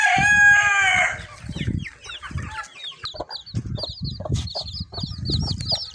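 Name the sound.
chickens and chicks clucking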